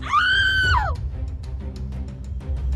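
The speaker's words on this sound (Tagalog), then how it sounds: "Sumigaw ako ng malakas." A woman lets out one loud, high, sustained scream that bends downward and breaks off after about a second, followed by low background rumble, as part of a Filipino aswang horror tale about a young woman investigating a missing child.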